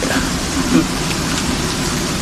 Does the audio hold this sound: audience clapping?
no